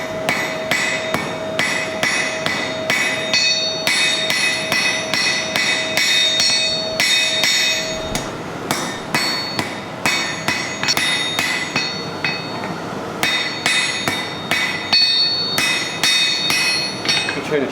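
A hammer forges a bog iron knife on an anvil, striking in quick rhythmic bursts of bright ringing metallic blows close by. There are short pauses between the runs of strikes.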